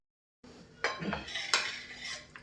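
Peanut chutney being stirred and roasted in a pan on the stove, a metal spoon scraping and clinking against the pan over a soft sizzle, close and fairly quiet, no talking.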